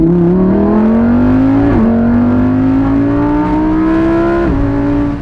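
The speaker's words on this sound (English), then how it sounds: "And what happens when you accelerate? Well, you first off obviously downshift twice." A Lamborghini Huracan Evo Spyder accelerates hard in second gear after a double downshift, its engine roaring loudly and climbing steadily in pitch, with brief dips at gear changes, close and continuous.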